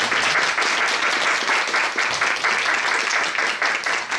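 Lecture audience applauding an interpreter after a talk on modernist architecture in Czechoslovakia, steady dense clapping from many hands, sustained and fairly loud throughout.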